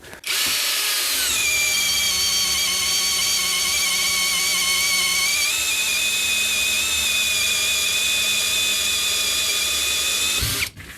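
An Einhell TP-CD 18/80 cordless brushless drill driver runs at first speed, a loud close steady motor whine with a brief shift in pitch midway, starting and stopping cleanly with no talk.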